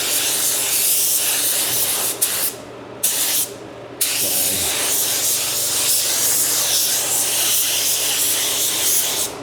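An InoKraft Drizzle Pro paint spray gun gives a steady, loud, broadband hiss of spraying paint that runs almost without a break, with two brief pauses partway through.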